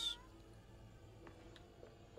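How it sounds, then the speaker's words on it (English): A cat in the video game Hello Neighbour 2 gives a short, faint meow at the start and another brief one at the very end, quiet and distant over a near-silent background. "The cat is playing with the food."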